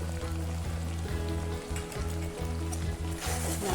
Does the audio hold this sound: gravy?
yes